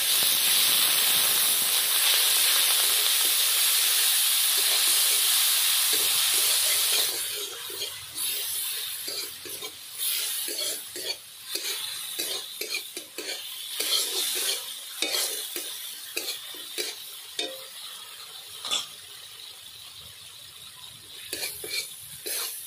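Spice masala with turmeric and salt plus a little water fries loudly in a pan for aloo chop curry, a strong hiss at first, then a softer sizzle broken by steady scraping strokes of a spoon, with no voices.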